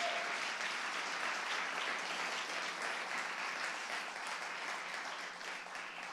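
A church congregation gives sustained, dense applause at a Sunday morning service, steady and loud throughout with no voices standing out.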